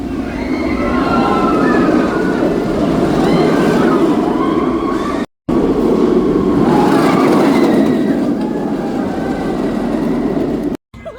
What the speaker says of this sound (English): First ride on Nemesis for Charlotte